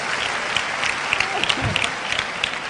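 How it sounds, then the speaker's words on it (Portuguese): An audience at a Spiritist talk in Brazil applauds, many hands clapping in a brisk, steady patter that holds for a couple of seconds and stays fairly loud throughout. "Palmas pro nosso amigo."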